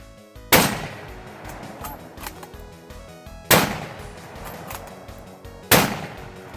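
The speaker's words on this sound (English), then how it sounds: "Let's take some more shots." Three loud rifle shots from a budget Revelation 225 in .30-30 fired outdoors at targets, each a sharp crack spaced about two to three seconds apart with a ringing decay between.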